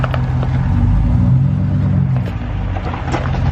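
A pickup truck's engine runs low and steady as it backs up slowly in reverse, a close, continuous rumble with no voices.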